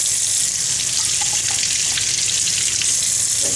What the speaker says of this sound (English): rinse this bad guy